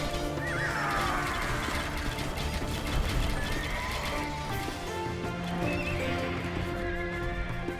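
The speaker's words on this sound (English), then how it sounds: "cavalry are coming for you, Kotyan." Horses neighing and whinnying over steady clip-clopping hooves in the Age of Empires II video game, with a faint mechanical ratcheting underneath; dense and continuous, no talk.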